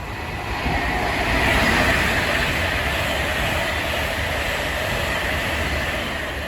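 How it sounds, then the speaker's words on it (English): Class 390 electric train passing on the West Coast Main Line, a close, steady rushing roar of wheels and air that swells slightly and then holds throughout. "There's 390047 from Blackpool North to London Euston, and we are on the West Coast Main Line"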